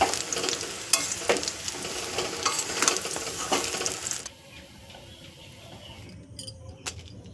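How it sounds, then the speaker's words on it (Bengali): Tamarind frying in oil with panch phoron and stirred gently in a pan, a close sizzle with repeated scraping and clinking strokes that fades to a quieter hiss after a few seconds, ending in a few faint knocks. "এবার এই তেঁতুলগুলোকে একটু হালকা হাতে নাড়িয়ে নিয়ে আমি নামিয়ে রাখবো"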